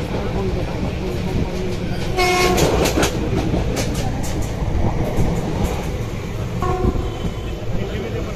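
A Kolkata metro train runs into an underground section, with a loud continuous rumble and rail clatter filling the whole stretch and a brief horn-like tonal burst near the middle. People talk faintly underneath.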